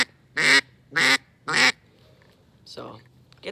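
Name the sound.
duck call being blown to imitate a duck quacking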